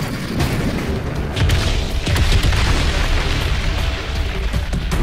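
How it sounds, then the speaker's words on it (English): Dense, continuous rumbling booms and bursts fill the whole stretch, a steady barrage of explosions in the video game Crysis 3, with no talking. "So much explosions and stuff."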